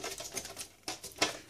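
A few crisp mechanical clacks and a sharp slicing snap from a paper guillotine cutter trimming paper, close and brief, with no talking.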